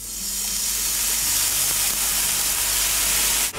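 Worcestershire sauce sizzles hard in a hot pan while a steak au poivre cream sauce is being made. The loud, steady frying hiss is close, keeps going without a break, and has a faint clink near the end.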